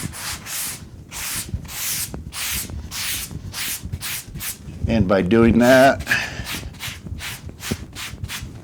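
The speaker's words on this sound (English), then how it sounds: "angle your sanding sponge so that you're primarily sanding on the outside edge" Rhythmic scratchy rubbing of a sanding sponge on drywall patching a ceiling hole, steady repeated strokes close by, with someone talking over it partway through.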